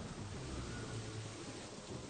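Rain pours down steadily with a low, rolling rumble of thunder underneath in a My Little Pony cartoon, faint and continuous, with no voices.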